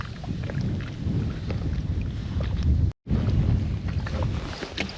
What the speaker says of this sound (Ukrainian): Вітер дужчий стає